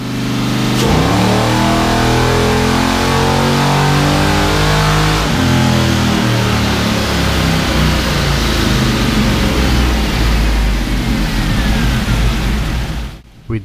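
An LS1-swapped Chevrolet Monte Carlo V8 with long-tube headers and an aftermarket cam revs hard on a dyno pull, climbing steadily in a loud, sustained roar before cutting off abruptly near the end.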